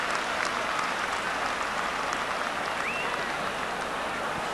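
Stadium crowd noise from the All Star Soccer video game during a UEFA Cup match between Spurs and Bayern Munich, a steady, dense roar of cheering and applause that holds level throughout with no voices over it.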